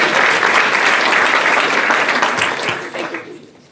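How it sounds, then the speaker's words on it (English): Audience applause for the Artemis II astronaut crew at a Canadian Space Agency headquarters event, loud and sustained from a large crowd, tapering off toward the end. "I think you get a big clap."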